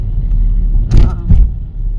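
A car drives along an emptying road in the evening, heard from inside as a steady low engine and road rumble with a couple of brief louder bumps, and people talking in the cabin.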